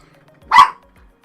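A single loud, close bark from a dog rings out once in an otherwise quiet moment.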